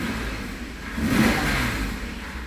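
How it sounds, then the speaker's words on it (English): Acura car engine running after a cold start, a close mid-pitched engine drone that swells slightly in the middle as if briefly revved, then settles back to a steady idle, with no voices. "yeah, cold start"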